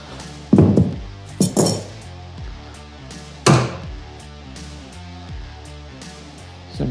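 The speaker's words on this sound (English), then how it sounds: "you can use a corner chisel to remove the corner" A corner chisel is struck into the wooden corner of a fire door while fitting door hardware, giving a few loud, sharp wooden knocks with lighter taps spaced between them.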